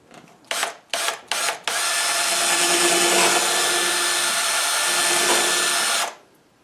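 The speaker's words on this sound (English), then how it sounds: "I'm going to drill a couple pilot holes" A power drill gives three short whirring bursts, then runs continuously for several seconds as it bores pilot holes into an old wooden door, stopping abruptly.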